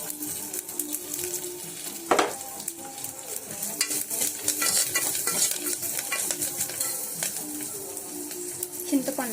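Dried red chillies and turmeric tempering fry in a pan for omum rasam while being stirred, a steady close sizzle with scraping strokes and a sharp clink near the start.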